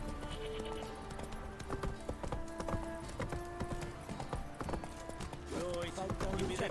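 Horse hooves clip-clop steadily in The Witcher 3 as the mount walks through a town, a rhythmic run of close, fairly loud hoof strikes over faint background ambience.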